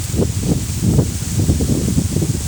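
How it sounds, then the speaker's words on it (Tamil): Wind rustles the fronds of small coconut palms in a village, a soft, steady leafy swish with gentle gusts rising and falling close by. "கொஞ்சம் காற்று கொஞ்சம் அடிக்கி,"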